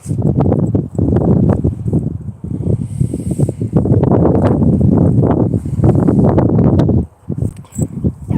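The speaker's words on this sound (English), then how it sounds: "It might sound windy because the phone's picking it up." Heavy wind buffets a phone microphone outdoors in loud, rumbling gusts that come and go, with brief quieter gaps between bursts.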